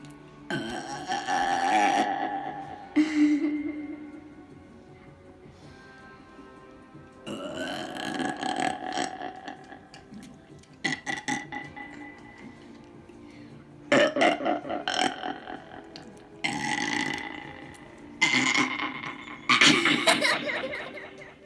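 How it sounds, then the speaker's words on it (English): A 7-year-old child lets out loud, drawn-out burps in several separate bursts, each one rumbling for a second or more, close up, with quieter gaps between them. "longest burp in the world."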